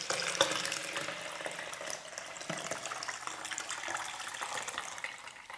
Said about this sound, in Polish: Otwieramy górę i zlewamy wywoływacz.